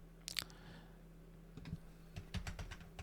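A password being typed on a computer keyboard, with a few faint, quiet key clicks in short irregular bursts and no talk.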